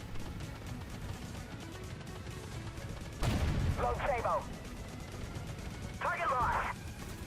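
Two short bursts of light machine gun fire in the video game Armored Warfare, rapid rattling volleys a couple of seconds apart, following a heavy impact, with someone talking throughout.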